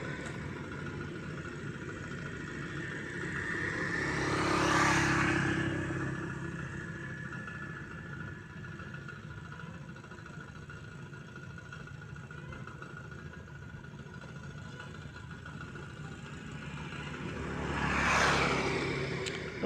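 A rice transplanter machine's engine runs steadily while it plants paddy seedlings in a field, a continuous mid-pitched hum that swells twice as the machine passes close by.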